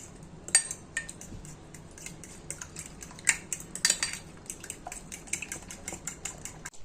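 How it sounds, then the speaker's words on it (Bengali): Utensil steadily whisking a bowl of mixture with chopped onion and chili flakes, a quick run of light metallic clinks and taps against the bowl, close and fairly quiet, with no talking. "কুচনো পেঁয়াজ আর অল্প একটু চিলি ফ্লেক্স দিয়ে ভালো করে এটি ফেটিয়ে নেব।"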